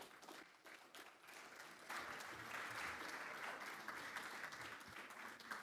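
Audience applause at a presidential youth summit, moderately distant clapping that grows fuller and steadier after the first two seconds and holds as a dense wash to the end, with no speech over it.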